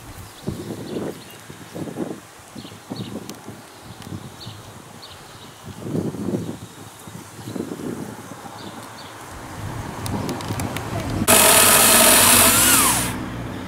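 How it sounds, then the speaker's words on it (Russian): A Chinese-made power saw whines loudly near the end after a stretch of quieter, irregular knocking and rustling. "Это вот все та же китайская пила."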